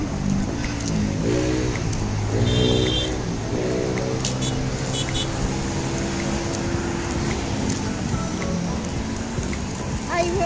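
A car cruising along a highway makes a continuous road rumble and hiss. Voices are heard faintly over the steady drone.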